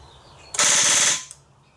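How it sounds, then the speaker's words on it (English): A rapid burst of loud mechanical clicking from a car's starter solenoid chattering, lasting under a second before cutting off abruptly. "That's the noise of the starter solenoid."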